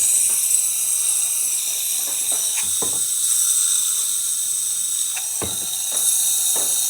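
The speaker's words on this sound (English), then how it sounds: "Nice strong steam." A Breville espresso machine's steam wand, freshly serviced after a full tune-up, releases a strong, steady hiss of steam close by, with a few faint clicks and knocks of handling over the continuous rush.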